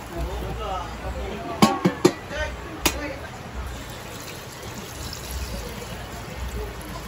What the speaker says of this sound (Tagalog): So maglalagay tayo dito ng mainit na tubig.